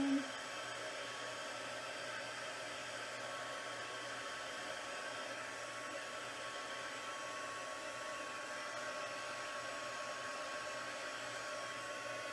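Heat embossing tool blowing hot air during a Stampin' Up! craft session, a constant faint whirring hiss running unbroken and alone after a brief bump at the start.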